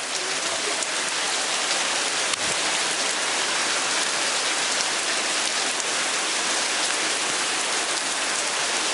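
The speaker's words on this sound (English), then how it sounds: "To give you some perspective on how hard it's raining." Hard, heavy rain pours near a lake, a dense unbroken roar of drops with steady loudness and no voices.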